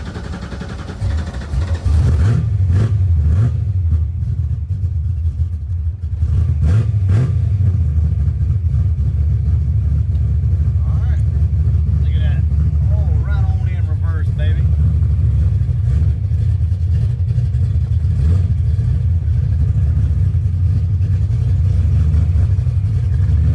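A small block Ford V8 car engine cranks and fires, then runs with a loud, continuous low rumble and revving that carries on to the end, with a voice briefly audible near the start.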